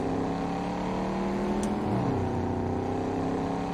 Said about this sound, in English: You've heard the car